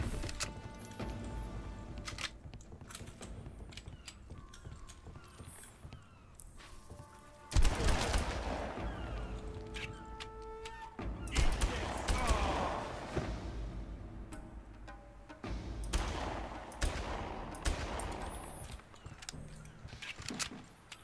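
Weapon gunfire in a Far Cry game: scattered bursts of shots and sharp impacts over a stretch of play, some loud and near, mixed with other game noises.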